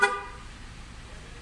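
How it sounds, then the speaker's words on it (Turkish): A Citroen C4 horn gives a single short toot as the car is unlocked through a horn module, a sharp burst at the start that quickly fades into a quiet background hum. "Açtığı zaman 2 sefer korna çalıyor."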